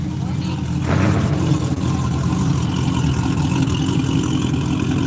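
A cammed Cadillac CTS sits idling at the Texas Mile, its deep, loping rumble steady and close throughout, with faint background chatter and noise around it.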